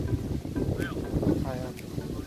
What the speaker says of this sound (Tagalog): Medyo malakas po yung hangin dito.